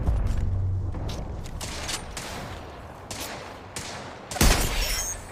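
Gunfire in the shooter Apex Legends during a squad firefight: a series of shots and bursts spread across the clip, ending in one louder, closer blast, heard alone without talk.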